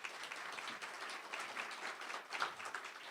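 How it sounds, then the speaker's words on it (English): Luncheon crowd at a chamber of commerce monthly meeting applauding a guest, a faint, distant wash of many hands clapping steadily for a few seconds, swelling slightly near the end. "let's give Stu a big round of applause"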